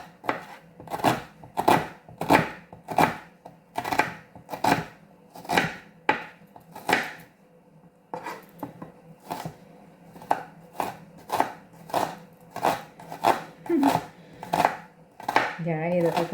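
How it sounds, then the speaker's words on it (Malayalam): A knife chops onion on a board in a rhythmic run of sharp, close strokes, roughly twenty of them, with one brief pause partway through. "അപ്പോൾ നമുക്ക് ഈ ഉള്ളിയും കൂടെ അങ്ങ് അരിഞ്ഞേക്കാം അല്ലേ"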